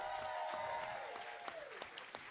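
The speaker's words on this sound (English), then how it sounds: "Give yourselves a round of applause." Audience at a Juneteenth comedy show clapping, a fairly faint, steady wash of applause heard from a distance, with a sustained tone that bends downward under it.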